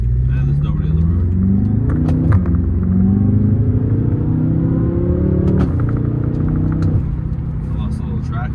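BMW M6 with a carbon fiber wing accelerating hard on an open road, its engine note climbing steadily as the wheels briefly lose traction. Heard from inside the cabin as a loud, continuous rumble with a slight dip near the end.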